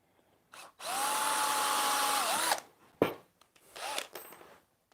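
A power drill whines in one long steady run of about a second and a half as it drives a screw into a wooden jig, followed by a sharp knock and a second, shorter burst of the motor, close and alone.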